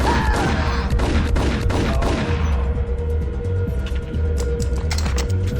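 Rapid, dense gunfire from the 2001 shooter Max Payne rattles on continuously at close range, loud sharp reports layered over a rumbling, chaotic game soundscape.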